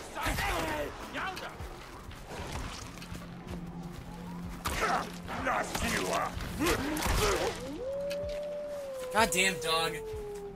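A dog howls in the stone-age game Far Cry Primal, a rising then falling wail heard amid combat crashes and thuds, with someone talking over much of it.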